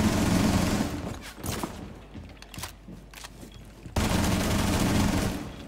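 Gunfire in the video game Rainbow Six Siege, bursts of rapid shots rattling in clusters with quieter gaps of footsteps and movement between, then a dense volley resuming near the end.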